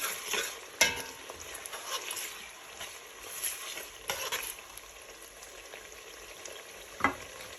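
Rice and a spice seasoning mix are stirred in a frying pan with a soft sizzle, while a spoon scrapes and taps against the pan now and then.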